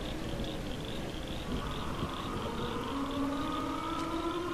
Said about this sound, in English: What's the siren for?